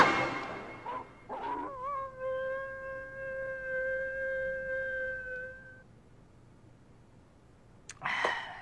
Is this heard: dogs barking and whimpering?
yes